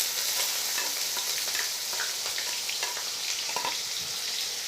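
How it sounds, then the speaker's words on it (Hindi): Onions hit hot oil with golden cumin for a pulao, giving a close, continuous sizzle with scattered crackles and spits, with no one talking. "अब हम इसमें प्याज ऐड करेंगे।"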